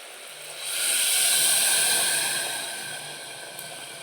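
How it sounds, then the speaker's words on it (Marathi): Water is poured into a hot pan of spiced rice, raising a loud, rushing steam hiss that swells, then slowly fades. "त्यात आपण ओतून घेणार आहोत पाणी"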